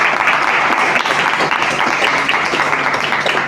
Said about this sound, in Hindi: तो सबसे पहले तो उस टीम का जोरदार तालियों से एक बार अभिनंदन होना चाहिए